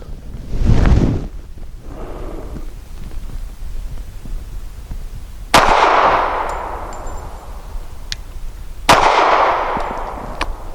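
Two sharp, loud gunshots from a Rock Island 3.1-inch double-stack .45 pistol firing Fiocchi brass-case 230-grain full metal jacket rounds at an outdoor range, a few seconds apart, each with a ringing decay. A duller thump comes first, with no talking.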